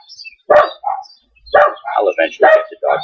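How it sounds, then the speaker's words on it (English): Several dogs bark loudly and close by in sharp, repeated bursts with short gaps between them. "I'll eventually get the dogs to quiet down."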